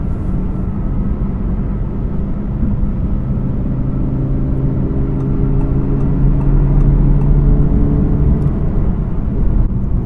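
A loud, continuous Audi R8 V10 Plus (2017) sports car engine drone with a low rumble that swells slightly in the middle as the revs climb. No talking.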